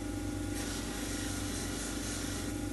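A cabochon stone is pressed against a spinning soft-backed polishing wheel, giving a continuous low grinding whir with a faint rubbing rasp, steady and fairly quiet throughout.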